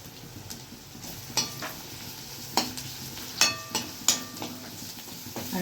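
Chopped garlic and chilies frying in a pan, a steady soft sizzle broken by several sharp scraping clinks of a spoon stirring against the metal, close and fairly loud with no talk.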